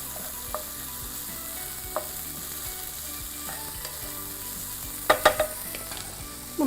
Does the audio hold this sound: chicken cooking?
yes